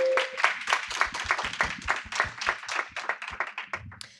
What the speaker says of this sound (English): I hope we can meet him with an applause.